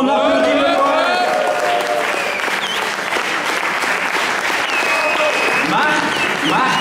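A crowd at a poetry slam breaks into loud applause for a poet, with voices calling out over the clapping throughout.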